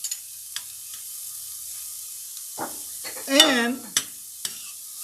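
Onions with garlic sautéing in a pan on an induction burner, a faint steady sizzle with a few utensil clicks, while a voice speaks briefly over it.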